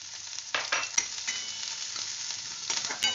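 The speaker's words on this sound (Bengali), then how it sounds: "এবার প্রথমে তেল গরম হয়ে গেছে, এবার দিয়ে দিলাম কুচনো পেঁয়াজটা।" Chopped onion dropped into hot oil sizzles steadily at a moderate level, with bursts of crackling and a few spoon knocks as it is stirred.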